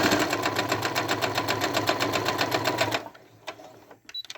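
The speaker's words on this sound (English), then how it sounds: "with a 1/4 inch sewing foot, we're going to sew down the line" Sewing machine stitching quilt pieces with a quarter-inch foot, a rapid, even mechanical chatter running steadily for about three seconds before stopping, followed by faint handling clicks.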